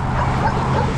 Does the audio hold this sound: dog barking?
yes